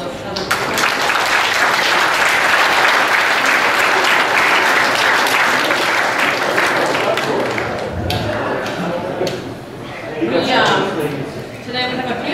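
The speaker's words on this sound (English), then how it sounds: "So if I could just get a round of applause for those other people." A room full of people at an annual awards banquet breaks into loud, sustained applause, steady dense clapping that thins briefly then swells again, with some voices mixed in.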